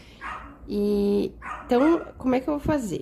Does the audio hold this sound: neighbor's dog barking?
yes